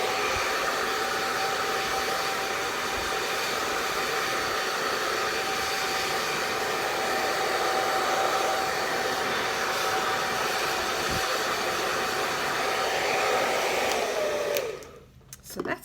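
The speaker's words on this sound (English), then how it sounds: "I'm going to give it another little blow dry" Steady, loud hair dryer whoosh with a thin whine runs continuously for about fifteen seconds while fluffing a fur pom-pom, then cuts off abruptly.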